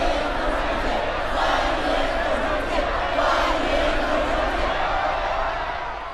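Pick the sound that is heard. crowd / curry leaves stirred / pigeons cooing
crowd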